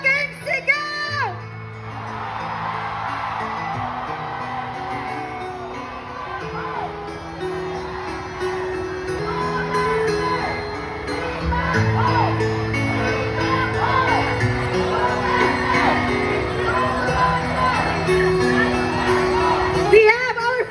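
A crowd at a Davao street parade shouts and cheers over loud music for a sustained stretch, with children's shouts and whoops mixed into the din.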